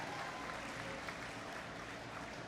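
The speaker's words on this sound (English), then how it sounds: "Can we give a huge round of applause to Qualcomm?" Audience applause at a FIRST robotics district competition in Gainesville, a dense, steady wash of clapping filling a large arena without a break.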